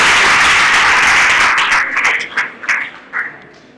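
A short burst of applause from a small group, loud at first and then thinning into a few scattered claps before fading out.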